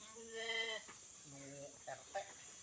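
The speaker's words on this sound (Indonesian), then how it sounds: "Iya kanang domba abah." Sheep bleat a few times in a green village at the foot of Mount Salak in Sukabumi, drawn-out wavering calls over a steady background hiss, with no other clear voices.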